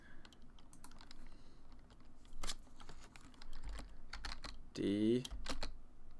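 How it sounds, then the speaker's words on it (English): Quiet clicks of typing on a computer keyboard, scattered in short irregular runs, with a brief spoken word partway through. "But let's type it in really quick here."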